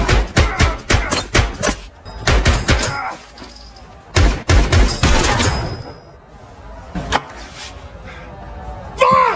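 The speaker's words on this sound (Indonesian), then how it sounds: "datang dan melayangkan tembakan." Gunfire in a film scene: a burst of rapid, loud shots, then a pause and a second volley of sharp cracks, with scattered single shots and voices trailing after.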